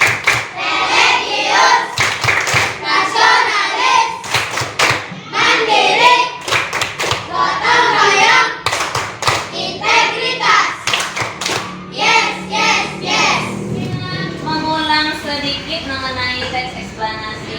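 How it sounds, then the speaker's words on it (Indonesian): A school class claps the rhythmic PPK chant, bursts of sharp group clapping in patterned beats, loud and close, with children's voices chanting along between and over the claps. "Kita tepuk PPK dulu supaya lebih semangat."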